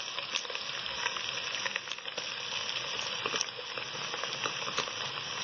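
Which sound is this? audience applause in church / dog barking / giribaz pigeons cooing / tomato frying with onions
tomato frying with onions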